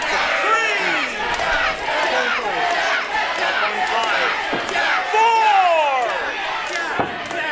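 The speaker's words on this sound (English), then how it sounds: "an incredibly loud and split crowd here at the Rec Room South Edmonton" A loud, split wrestling crowd at the Rec Room South Edmonton during a Clandestine Wrestling Society show, with dense yelling and chanting throughout, individual shouts rising above the roar and a few sharp slaps or thuds.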